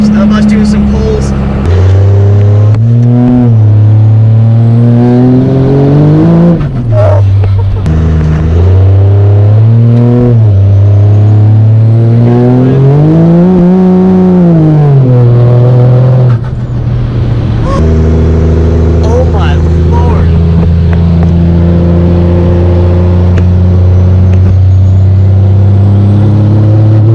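An 800 hp 1995 Dodge Ram 2500 with a 12-valve Cummins diesel doing pulls, loud and close, its engine note repeatedly rising and falling through hard accelerations and sustained high revs for the whole stretch.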